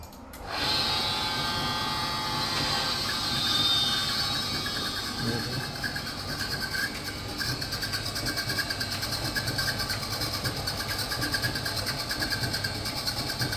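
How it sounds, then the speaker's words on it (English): A Bosch tumble dryer drones steadily with a mechanical whine and a faint irregular abnormal rattling running through it, continuous and close. "machine is working properly, but some abnormal noise coming from the machine"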